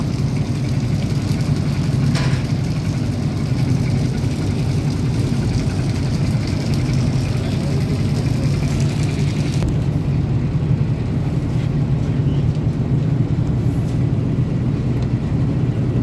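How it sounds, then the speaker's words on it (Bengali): Passenger river launch leaving the Barishal launch terminal, its engine a steady, loud low drone and rumble running unbroken throughout with no voices. "বরিশাল লঞ্চঘাট টার্মিনাল থেকে আজ আমাদের লঞ্চ এখন বরিশাল টার্মিনাল ত্যাগ করে বরিশালের উদ্দেশ্যে রওনা দিচ্ছে"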